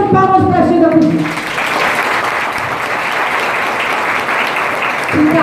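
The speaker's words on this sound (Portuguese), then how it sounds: "Mas estamos de palmas para as tias da cozinha" Loud applause from a school audience for the kitchen staff, starting after a brief voice and continuing steadily, with another voice cutting in near the end.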